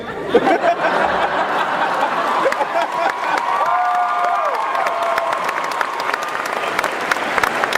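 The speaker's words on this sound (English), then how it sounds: "getting applause from you, so I sense that you think it's great too" A convention panel audience at San Diego Comic-Con 2010 applauds steadily for several seconds, a dense wash of clapping with a few faint laughs and cheers mixed in.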